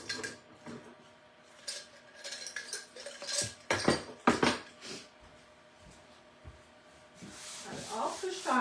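A squeegee pushes white ink across a tea towel in faint, soft scraping strokes, with scattered light rubbing and clinking between passes.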